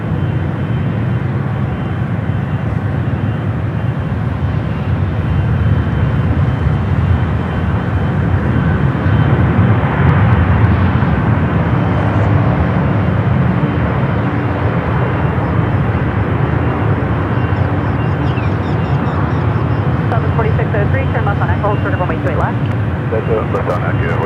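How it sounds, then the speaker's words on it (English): GE90 engines of a Japan Airlines Boeing 777 at San Francisco airport, a deep, sustained turbofan roar filling the whole stretch with a mild swell midway, while voices talk intermittently over it. "You can hear the G90s from the Japan 777"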